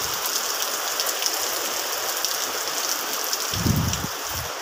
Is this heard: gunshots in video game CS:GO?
no